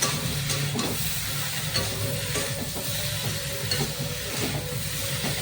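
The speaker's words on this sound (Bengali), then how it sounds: "সবজিগুলো দিয়ে দিলাম, সবজির সঙ্গে মশলাগুলো ভালো করে কষিয়ে নেবো।" Vegetables and spices sauté in a hot pan with a steady, loud sizzle and hiss throughout, broken by soft scraping stirs at irregular intervals and no voices.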